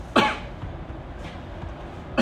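A single sharp cough, set off by eating a biscotti, bursts out near the start, followed by quieter background noise and a second short cough-like sound at the very end.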